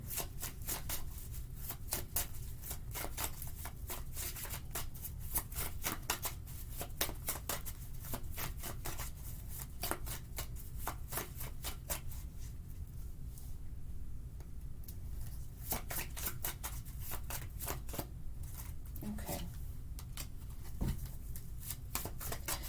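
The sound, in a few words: shuffling tarot cards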